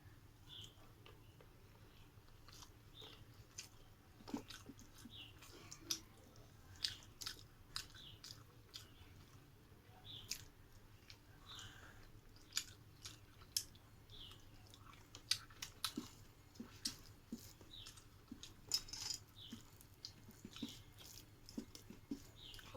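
Soft, close chewing and mouth clicks of someone eating a home-cooked lunch, irregular small bites and smacks recurring over a low steady hum, with no talking.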